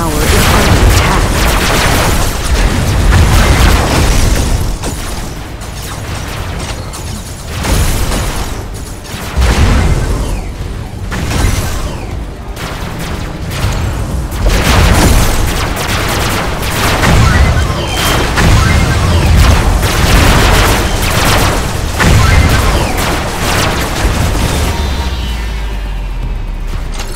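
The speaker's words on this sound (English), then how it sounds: "Plasma bomb." Plasma bomb explosions in a strategy video game, a dense, loud barrage of booms and crackling blasts that keeps rolling for nearly half a minute.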